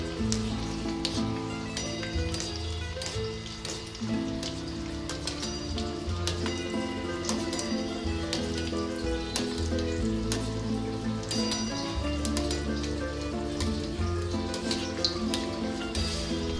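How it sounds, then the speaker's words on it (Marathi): Upavasachi kachoris deep frying in hot oil give a continuous, close, crackling sizzle with dense popping bubbles that holds steady throughout, with faint background music and no talk. "आता तयार झालेल्या या कचोऱ्या तापलेल्या तेलात डीप फ्राय करा।"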